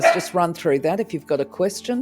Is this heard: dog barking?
yes